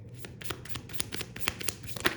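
Tarot cards being shuffled by hand, a run of crisp riffling flutters and soft slaps in quick irregular bursts, close and fairly quiet with no talking.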